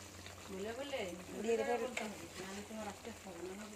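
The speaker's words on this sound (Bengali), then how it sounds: "ভালো করে নাড়াচাড়া করে নিচ্ছি" Mustard paste frying in a pan for a pabda fish curry, stirred steadily with scraping and sizzling under continuous voice-like tones throughout.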